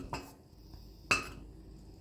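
Moong dal and sago payasam being stirred in a pot, with two distinct clinks of a ladle against the metal, one near the start and a sharper one about a second later, with no voices.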